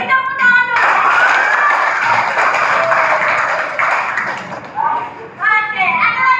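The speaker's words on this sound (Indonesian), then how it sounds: "Oke, beri tepuk tangan dulu." Children in a classroom music lesson clap together in a steady, dense burst of applause lasting several seconds, with a teacher's voice and children's chatter around it.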